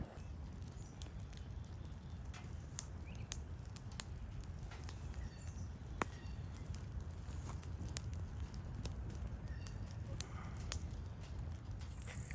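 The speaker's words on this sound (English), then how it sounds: "It is raining right now currently, and we're supposed to be getting a little more rain." Steady light rain falling outdoors beside a stump being burned in a smokeless fire-ring incinerator, a constant faint patter with scattered sharper drips and ticks throughout.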